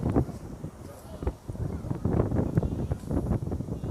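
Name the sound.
wind blowing into microphone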